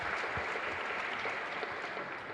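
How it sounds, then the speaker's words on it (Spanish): A congregation applauds during Holy Mass in a chapel, a continuous wash of many hands clapping at a fairly loud, even level with no speech on top. "Un fuerte aplauso entonces para nuestra Madre."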